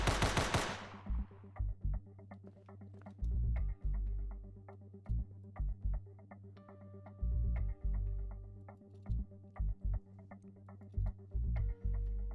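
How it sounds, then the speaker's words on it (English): Pistol gunfire in a video game, a series of sharp repeated shots in irregular bursts over a steady droning game soundtrack, loud and close, with no talking. "I wonder if the pistol can overheat."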